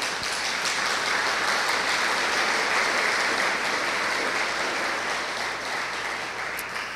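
Church congregation applauding for the Lord, a full, steady wash of many hands clapping at once, sustained and even for several seconds with no talk.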